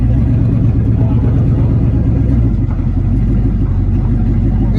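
A V8-swapped Chevy S10 roars as it is floored for a burnout, a loud, close, rumbling engine sound that holds steady throughout, with voices talking over it.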